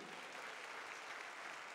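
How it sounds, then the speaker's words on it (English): A congregation at a Marsham Street worship service applauds briefly, a soft, distant patter of many hands without a break. "Give her a round of applause."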